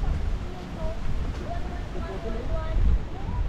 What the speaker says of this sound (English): it's very windy and blowy